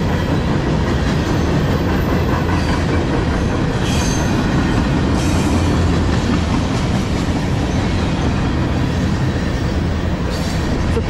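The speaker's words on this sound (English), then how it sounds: "pretty boring train." A CSX freight train passes close by in a loud, continuous rumble of wheels and cars, with a steady rolling roar and occasional faint squeals throughout.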